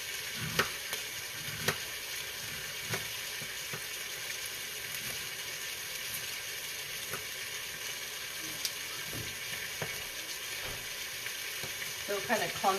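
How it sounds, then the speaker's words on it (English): Finely chopped onions fry in a pot with a steady, close crackling sizzle, broken by occasional soft stirring knocks. "the onions are kind of going to cook down to hardly anything"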